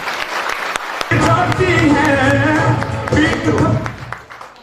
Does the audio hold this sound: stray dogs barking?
no